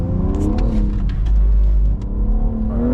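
A BMW X4 M Competition held on the throttle while drifting on a busy track, its engine droning loud and close and rising steadily in pitch with a brief dip partway through.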